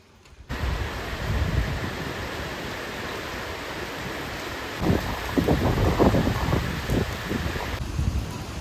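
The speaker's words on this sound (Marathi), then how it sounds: "हळूहळू हळू बघा पाऊस पण पडतोय" Steady, dense hiss of rain falling outdoors, continuous and fairly loud, with a few brief rustling bursts partway through.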